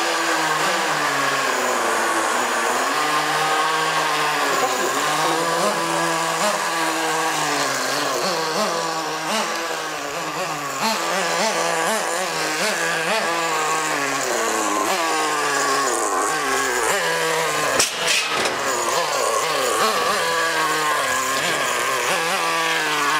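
Traxxas Slash Nitro 2WD RC car with its small nitro engine running hard, a raspy high buzz surging and easing with throttle changes over a long stretch, a brief dip midway and a sharp knock near the end, no talk.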